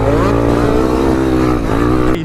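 A motorcycle engine revs hard up close, a loud continuous roar with rising harmonic pitch as it accelerates, briefly dipping near the end.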